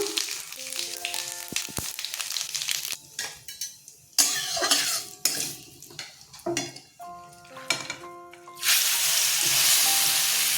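Cumin seeds dropped into hot mustard oil in a wok crackle and sizzle loudly, with bursts of spattering, then a sustained intense hiss toward the end.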